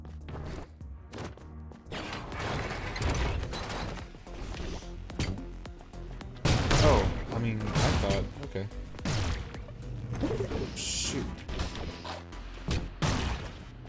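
Grenade launcher fire in the sci-fi shooter Orbital Bullet, a run of loud, punchy thumps and blasts with crashing impacts over busy game music, the heaviest burst near the middle.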